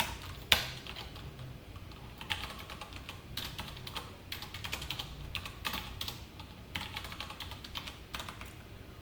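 Steady, irregular clatter of keys on a computer keyboard while code is typed, close and fairly quiet, with uneven bursts of keystrokes and no talking.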